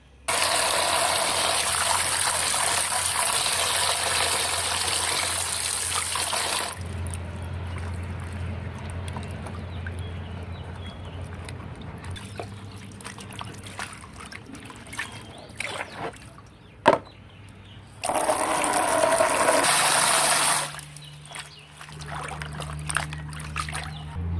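Noni leaves are rinsed clean under running water, a steady loud gushing stream that drops away to quieter handling and dripping before the flow surges back for a few seconds.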